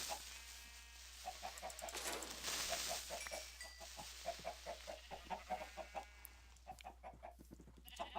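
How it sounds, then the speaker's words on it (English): Chickens cluck repeatedly in a crowded chicken pen in a video game, a string of short rhythmic clucks that steadies after a brief noisy burst, fairly faint. "Go into the chicken pen."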